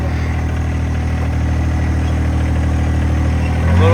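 A John Deere 1025R compact tractor engine idles with a steady low rumble, then its throttle rises in the final moment and the pitch and volume climb. No one speaks.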